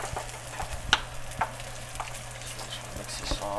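Bacon bits being stirred into a cream sauce in a pan for chicken and shrimp carbonara, a soft low sizzle with a few scraping clinks of a utensil against the pan, close and steady, no talking.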